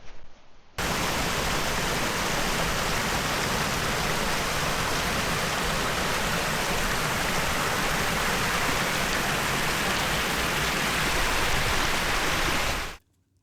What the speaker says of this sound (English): You can hear some water rushing off in the distance